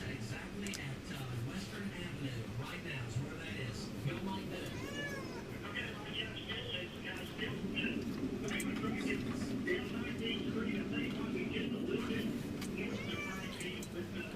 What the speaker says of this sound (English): So he's got a couple of cats with him